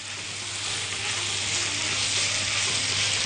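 Meat sizzles with orzo pasta in a hot pan, a steady close hiss of frying with faint stirring and no voices.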